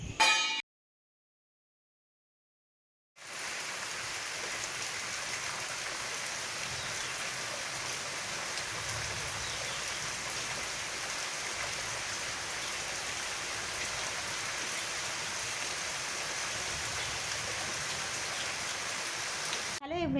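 Monsoon rain falls steadily outside a window, a dense even hiss with drops striking surfaces. It begins after a brief silence and continues unbroken for about seventeen seconds.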